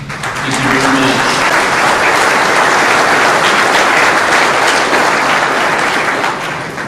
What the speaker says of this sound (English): We're going to do a lot of clapping on this